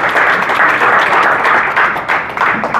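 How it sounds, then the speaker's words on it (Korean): At the opening ceremony of a hotel art fair in Incheon, an indoor audience claps in a dense, loud round of applause that swells and dips slightly throughout, with no talk on top. "여러분 박수로 환영해 주시겠습니다."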